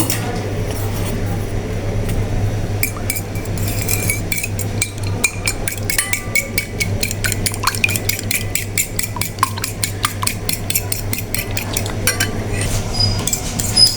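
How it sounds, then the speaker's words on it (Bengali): An egg beaten in a bowl with a utensil, rapid rhythmic clinking and tapping that grows faster and denser partway through, close over a low steady hum. "একটা বাটিতে একটা ডিম নিয়ে নিয়েছি তা ডিমটা ভালো করে ফেটিয়ে নিব"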